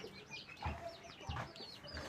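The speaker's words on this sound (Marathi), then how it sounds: "आपल्यापाशी एवढ्या साऱ्या कोंबड्या आहेत" Hens and roosters in a backyard flock cluck and call repeatedly, several overlapping bird voices at moderate distance with no talk.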